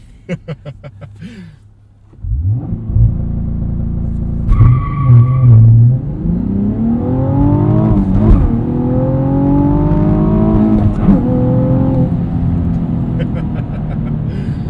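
A 2016 Cadillac ATS-V Coupe with a six-speed manual revs hard, climbing in pitch through several gear shifts, loud and close, with tires squealing briefly near the start.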